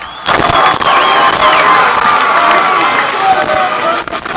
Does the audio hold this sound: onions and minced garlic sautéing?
no